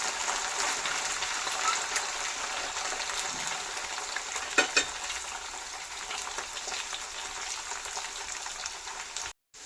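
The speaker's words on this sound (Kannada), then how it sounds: "ಇವಾಗ ಎಣ್ಣೆ ಕಾದಿದೆ, ಎಲ್ಲ ಇದರಲ್ಲೇ ಹಾಕ್ಕೊಂಡು ಫ್ರೈ ಮಾಡ್ಕೊಳ್ಳೋಣ." Chicken pieces deep-frying in hot oil for a chicken pickle, a steady close hiss and crackle of bubbling oil with no talking, cutting off abruptly near the end.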